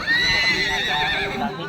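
A horse neighs loudly and close by, one long shrill whinny lasting nearly two seconds at a Philippine horse-fighting event.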